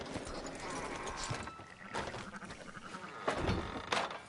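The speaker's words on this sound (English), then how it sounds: "Fine sheep." Sheep bleat several times over a noisy outdoor background, with a few louder calls near the end and occasional hoof-like clatter.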